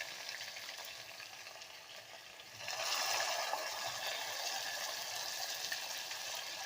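Sliced onions, cut lengthwise, sizzle steadily in a hot pan for a jackfruit seed pulav, with the frying growing noticeably louder and brighter partway through as they hit the oil. Continuous crackle, close and alone.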